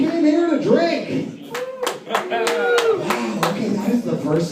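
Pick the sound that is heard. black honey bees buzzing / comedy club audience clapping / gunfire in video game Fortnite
comedy club audience clapping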